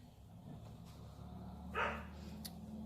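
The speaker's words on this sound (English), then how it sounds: "the dog's barking at something" A dog gives a single short bark at something in the distance. The bark is faint against a low steady background hum.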